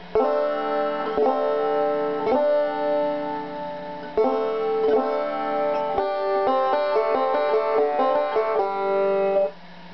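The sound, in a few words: banjo chords being played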